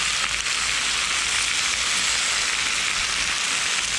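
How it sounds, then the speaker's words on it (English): Steady, bright sizzling of oil on a hot Blackstone flat-top grill, even and continuous throughout with no voices. "This is that sizzle, sizzle, sizzle, sizzle."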